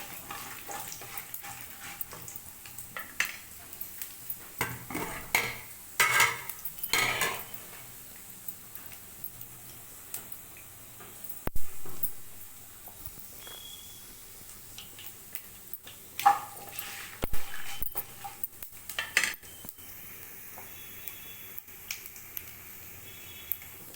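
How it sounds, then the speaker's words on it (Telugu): Sliced onions fry in oil in a pan. Sparse, sharp crackles and pops come in scattered clusters over a quiet background. "వేగిపోయాయండి ఎర్రగడ్డలు"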